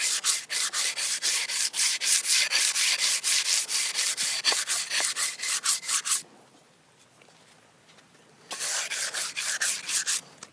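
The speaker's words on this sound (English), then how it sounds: "So sand the one side and also make sure to go around the leading edge properly." A Flyboard Razor fin is sanded by hand with rapid, rhythmic back-and-forth rasping strokes. The strokes stop for about two seconds and then resume, loud and close.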